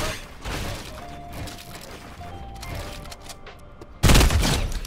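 Burst assault rifle fire in Fortnite Mobile, with a sharp, loud volley that kicks in near the end after a stretch of quieter gameplay sounds.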